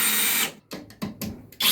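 Cordless power drill from a brand comparison of Flex, Milwaukee, Metabo, Ridgid and Makita, a loud whine that cuts out, then several short bursts as the trigger is pulsed.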